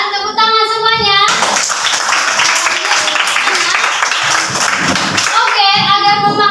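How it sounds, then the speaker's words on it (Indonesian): Elementary school class of children clapping together in a classroom, a loud, dense burst of hand claps lasting several seconds between stretches of a child or teacher's voice. "silakan tepuk tangan semuanya"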